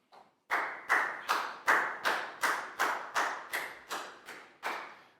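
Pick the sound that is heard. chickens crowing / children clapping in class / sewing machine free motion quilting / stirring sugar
children clapping in class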